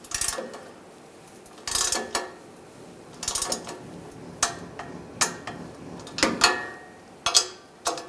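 Bolts on a catalytic converter of a 2011-2018 Ram 1500 3.6L V6 being tightened with a torque wrench, a run of separate sharp metallic clicks and clanks with short pauses between them, fairly close.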